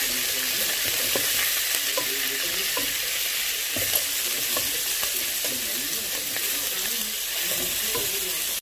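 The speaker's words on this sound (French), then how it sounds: "on fait dorer la viande" Meat browns in a pan with a spoonful of flour being stirred in, producing a dense, continuous sizzle with soft scraping and stirring knocks underneath.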